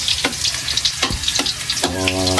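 Ginger sizzles in hot oil in a pan while cooking chicken, a steady crackling fry with a few sharper pops and a brief ringing tone near the end.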